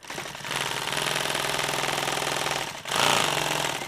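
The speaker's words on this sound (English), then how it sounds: "we're going to sew this part to that part" A sewing machine stitches nylon tactical gear, its needle hammering in a rapid, steady mechanical chatter for several seconds, pausing briefly and then starting up again loudly.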